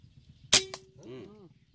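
An air gun fires a single sharp crack outdoors during a hunt for cormorant pests, followed by a short metallic ring and a brief voiced sound.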